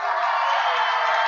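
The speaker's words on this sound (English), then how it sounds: "Crowd making some noise." A crowd roars at an arena football game between the Raiders and the SteelHawks, a brief steady wash of cheering and noise that stays level throughout.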